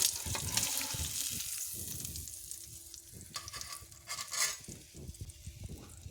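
Salmon sizzling in a cast iron skillet, a steady crackling hiss with scattered pops and occasional clatter, close and moderately quiet, fading slightly over the few seconds.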